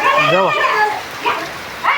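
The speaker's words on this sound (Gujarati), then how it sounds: "આ તમે વરસાદ જોઈ શકતા છો." Heavy rain falling in a village, a steady hissing wash of drops heard under someone talking close by.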